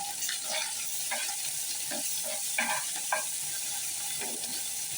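Prawns frying with garlic paste in a pan, a steady sizzle broken by repeated scraping stirs, close and alone with no talk.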